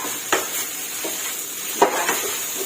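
A spatula scrapes and stirs shrimp fried rice in a sizzling pan, with a steady hiss and a few sharp clinks of metal against metal.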